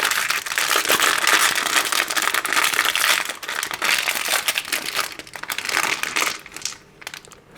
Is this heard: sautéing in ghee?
no